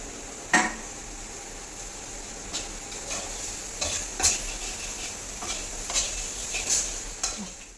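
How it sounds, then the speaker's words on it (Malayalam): Chili powder, onion and coconut pieces sautéing in a pan, with a low steady sizzle and intermittent metallic scrapes and taps of a spoon stirring, close. "ഞാൻ മുളക് പൊടിയും സവാളയും തേങ്ങാക്കൊത്തും എല്ലാം കൂടി ഇട്ട് നമ്മളിനി നല്ലതുപോലെ ഒന്ന് വഴറ്റി എടുക്കുക"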